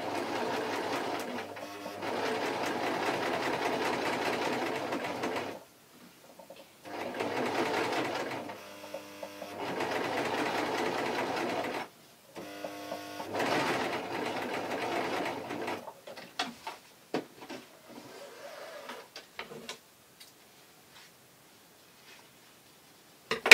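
A sewing machine runs in steady bursts of several seconds each, stitching a facing seam on taffeta for a baby's party dress, with brief pauses between runs and fainter handling noises near the end.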